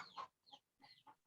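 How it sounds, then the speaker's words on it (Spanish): A rooster crowing, distant and faint in the background of an online class call. Its crow breaks into a few short rising-and-falling bursts over about a second, with no talking over it. "alguien está con el gallo por ahí"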